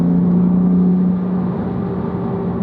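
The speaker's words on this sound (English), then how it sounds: "But you do really hear this cool turbo noise. So it does sound really nice spooling up." BMW M4 turbo spooling at mid-throttle through a Turner Motorsports cold air intake, a steady close whir over the engine drone that eases off slightly after the first second.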